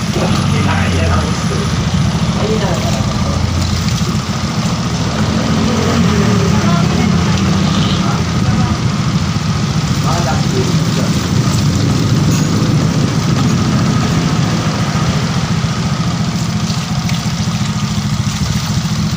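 A steady motorcycle engine idles continuously with a low, even rumble, close by, with faint splashing and background noise throughout; the motorcycle stalls when ridden through wet ground.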